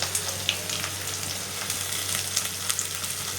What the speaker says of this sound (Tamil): இப்போ வெங்காயம் போட்டுக்கலாம்.